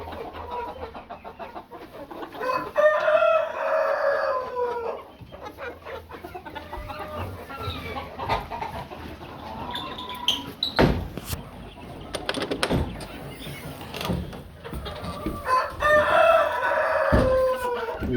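Chickens cluck and a rooster crows twice on a farm kept with quail, each crow a long, loud, drawn-out call near the start and end, with scattered clucks, knocks and soft background noise between.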